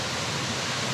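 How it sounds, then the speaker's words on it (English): A waterfall at Chimney Rock, North Carolina roars in a steady, loud, broadband rush of falling water, continuous and close with no other sounds. "we hiked up here to see this beautiful waterfall"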